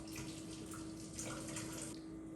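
Hot water pours out of a pot of cooked Momofuku instant ramen noodles as they are drained, giving a steady, soft splashing rush under a faint constant hum, with no talk.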